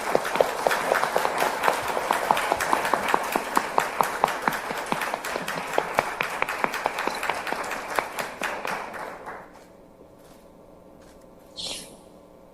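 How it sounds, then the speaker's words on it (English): Dense clapping greets former NATO Secretary General Rasmussen at a Taiwan video-link event, sustained and even for about nine seconds before stopping abruptly, followed by near silence and a faint brief sound. "applause to welcome him."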